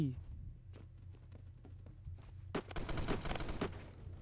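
Spas-12 shotgun fire in Roblox Phantom Forces, several sharp loud blasts in quick succession after quieter game sounds and a voice, with a dense burst of shots near the end.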